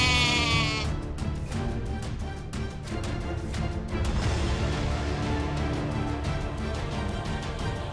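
A goat being beaten with a stick in a town square bleats loudly and repeatedly, close up, over a busy background.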